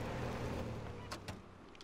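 Engine drone of a car being driven in Fortnite, a steady rumbling hum with a couple of brief clunks near the end, no one talking.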